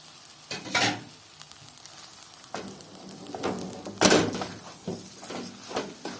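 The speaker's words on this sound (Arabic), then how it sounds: "شوحي بقى الرز على قد ما تقدري." Stirring and scraping rice in a pot with bursts of sizzle, irregular clanks and scrapes at close range, no talking.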